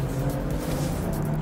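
BMW M4 with a 3-litre twin-turbo engine and dual-clutch gearbox in a racing simulator, a loud, steady droning engine tone held throughout a brief burst.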